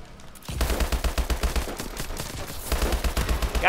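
Rapid automatic gunfire in Call of Duty: Advanced Warfare, a loud, sustained burst of evenly spaced shots that starts abruptly, pauses briefly, then continues, with no talking over it.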